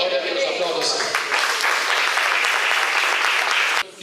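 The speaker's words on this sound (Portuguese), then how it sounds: "aplauda o Senhor" A congregation claps loudly and continuously during a family church service, dense close applause with voices mixed in, cutting off abruptly near the end.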